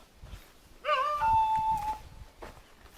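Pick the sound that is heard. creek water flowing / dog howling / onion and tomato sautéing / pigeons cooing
dog howling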